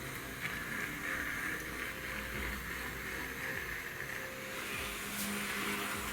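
A miniature electric model train runs at three-quarter power, a steady whirring motor hum with rail rumble droning evenly and fairly quietly throughout.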